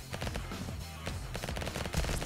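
Automatic gunfire in the first-person game Vampire Hunters, a dense, steady stream of rapid shots running through the whole stretch with layered game effects beneath.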